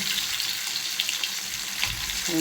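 Tilapia fish frying in oil in a pan, a dense continuous hiss and crackle heard close, steady throughout with a brief clink near the end.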